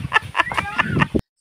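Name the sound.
pet chickens clucking on a farm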